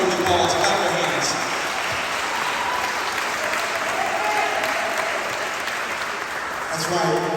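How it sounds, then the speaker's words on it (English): A church congregation at a Philadelphia community event breaks into loud, sustained applause, a dense continuous roar of clapping with cheering voices mixed in. "clap your hands"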